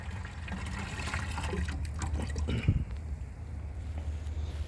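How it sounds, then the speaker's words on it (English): Swamp water poured into a container, a continuous close splashing and trickling fill with gurgles, steady throughout with no talking. "this is the swamp water here, and I just fill it up"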